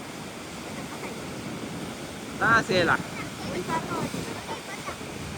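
Stormy sea waves on the Gujarat coast make a constant rough roar with wind buffeting the microphone, while a voice briefly calls out over the surf.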